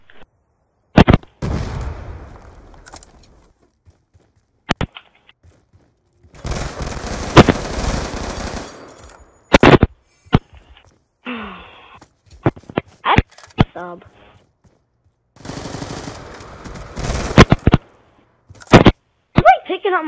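Sharp gunshot bursts and explosions from the video game Black Ops 2 in a 1v1 match, arriving in scattered loud volleys with silent gaps, under and between talk.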